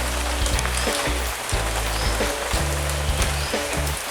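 Steady rain patters on a surface, a dense continuous hiss with low thuds and drips underneath, no voices.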